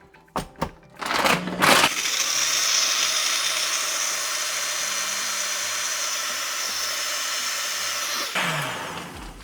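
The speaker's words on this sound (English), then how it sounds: "So let's mix it all up. We blend it for 30 seconds." A countertop blender whirs steadily for several seconds as it mixes a protein shake of cashew milk and egg whites. It starts after a few clunks of handling and then cuts off sharply.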